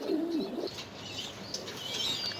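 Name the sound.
pigeons cooing, pair of 35 breed pigeons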